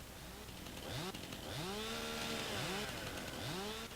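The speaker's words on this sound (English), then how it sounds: "just run your chainsaw down the centre" A chainsaw cutting timber in Farming Simulator 19, its engine revving up and down in repeated rising sweeps, fairly quiet and steady with no voices.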